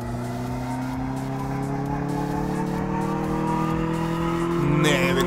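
A simulated car engine in Car Mechanic Simulator 2014 drones and revs steadily, its pitch climbing gradually, with a brief squealing burst near the end.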